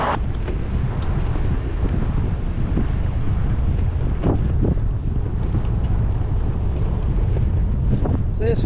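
Strong headwind buffets a cyclist's microphone on an open road, a loud continuous low roar and rumble with gusty swells throughout, no clear voices.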